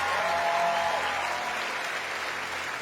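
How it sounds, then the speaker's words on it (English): A large studio audience at a televised talent show applauds steadily as a police dog handler is called on stage, the clapping dense and even with a faint voice early on. "A big round of applause"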